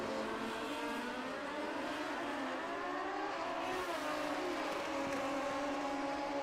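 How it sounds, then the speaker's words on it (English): A drag racing car at a Fuel Tech World Finals event roars down the strip, its engine noise heard at a distance with a continuous rising and falling exhaust note; no distinct pops stand out. "Man, that thing was popping and cracking and banging"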